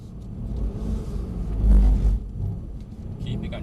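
A Mercedes-Benz C63 S AMG engine rumbles low under throttle, swelling to a heavier peak midway and then easing off, with a voice talking over it.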